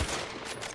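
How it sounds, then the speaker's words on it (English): Shotgun blasts from The Outer Worlds 2 video game, a loud dense burst of gunfire filling a short moment with no voices over it. "Oh, it is a shotgun."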